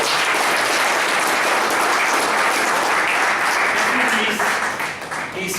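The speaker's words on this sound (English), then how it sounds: "let's give a round of applause for" Sustained applause from a crowd, loud and steady throughout, tapering slightly near the end.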